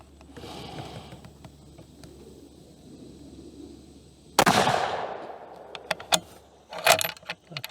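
A .220 Swift rifle shot cracks out sharply, loud and close, followed by a decaying rumble and a few smaller clinks and knocks afterward.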